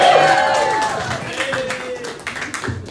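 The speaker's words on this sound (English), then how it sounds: "Everybody, a round of applause." An audience at an NFT art exhibition of female photographers in Chicago breaks into a short round of applause that fades over a few seconds, with a voice talking over it.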